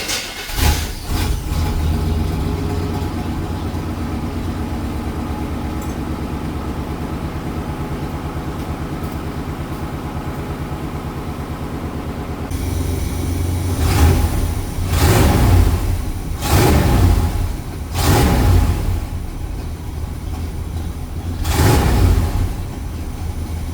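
A Chevy GMT400 OBS pickup with a new exhaust starts and idles with a deep rumble, then revs repeatedly in four distinct bursts, loud and close.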